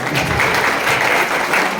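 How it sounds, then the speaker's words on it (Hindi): Brief, loud burst of audience applause at a network marketing seminar, a dense steady clatter of many hands clapping throughout with no speech over it. "जोरदार तालियां यार"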